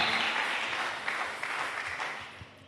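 A church congregation at an Easter celebration service applauds and cheers, a broad wash of clapping with scattered voices, fairly distant and steady, gradually fading slightly toward the end.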